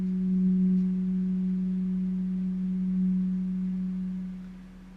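A tuning fork struck against a hand rings out as a steady, pure low hum. The tone holds evenly for several seconds before slowly fading, faint and alone.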